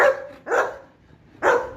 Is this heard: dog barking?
yes